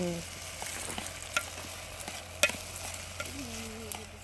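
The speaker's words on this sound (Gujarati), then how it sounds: "વઘાર કરે છે, વઘાર." Spices tempering in hot oil for a village-style Maggi cooked outdoors on a farm, giving a steady crackling sizzle with a few sharp pops and a brief stir scrape near the end.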